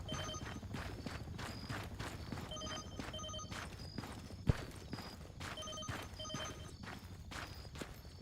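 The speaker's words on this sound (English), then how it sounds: "Why is this fucking phone on loud anyway?" A phone rings loudly and repeatedly during a gaming stream, its bell-like trill pulsing in a steady, regular rhythm over a constant background of game noise, with one sharp click midway.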